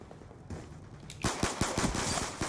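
Rapid machine gun fire in the video game Black Ops 2: at first a steady stream of moderately loud bursts, then much louder, closer and dense automatic gunfire, with no voices present.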